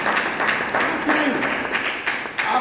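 Audience clapping at an ALTOS business seminar in Hindi, irregular bursts of hands from a mid-sized crowd in a room, with a voice talking over the clapping.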